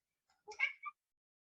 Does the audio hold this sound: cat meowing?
yes